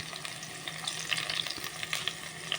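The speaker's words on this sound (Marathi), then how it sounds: "लसूण मातशें भाजून घेता" Garlic and green chillies fry in a pan for egg cutlets, a close, crackling sizzle with small popping bursts over a steady hiss.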